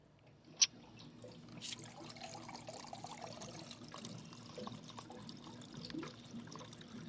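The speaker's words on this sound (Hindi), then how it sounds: "अभी मैं आपको टेस्ट करवाता हूँ ठंडा पानी।" Cold water pours from a homemade budget water dispenser into a glass, a faint, steady trickle lasting several seconds, preceded by a single sharp click.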